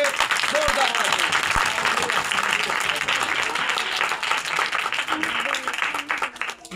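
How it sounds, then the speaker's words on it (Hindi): Congregation applauding in a church service in Lahore, loud continuous clapping from a crowd filling the room, steady throughout with a few faint voices mixed in beneath it. "खुदा के अजीम कलाम के लिए, खुदा के खादम के लिए जोरदार तालियां।"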